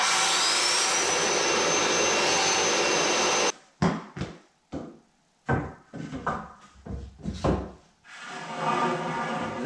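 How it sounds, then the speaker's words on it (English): A power saw cuts through 2x4 timber while fitting an inside door frame, one loud continuous run of a few seconds that stops abruptly, followed by clattering handling noises and then a further steady whirring. "The next thing we need to do here is to cut a 2x4 to attach here"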